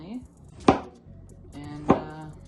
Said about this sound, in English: I'm gonna go ahead and cut these thinly